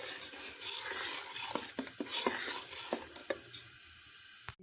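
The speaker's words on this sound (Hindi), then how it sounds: "इसको बॉयल आना शुरू हो जाए, ये देखिए ऐसे पक रहा है ये" Butter melting and coming to a boil in a pan for homemade desi ghee, giving a steady close bubbling sizzle with occasional sharp spoon taps and scrapes against the pan.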